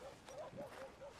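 A dog in the video game Red Dead Redemption 2 gives a few short, light yips and whimpering barks that sound moderately close, running under game sound and occasional voices.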